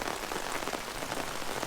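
Steady rain pattering on a campsite at Emily Provincial Park in Ontario, a continuous even hiss of drops on ground and surfaces nearby, with no voices.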